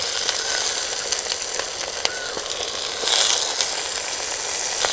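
Mutton liver pieces fry in hot oil with turmeric, giving a steady close sizzle with scattered crackles and pops. A stirring scrape can be heard in the pan, and the hiss swells briefly partway through.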